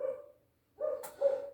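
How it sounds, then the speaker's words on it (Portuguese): Dogs bark at a moderate distance, a short bark, a pause, then two more barks in quick succession, fairly faint with no talk over them. "Olha os cachorros latindo, gente."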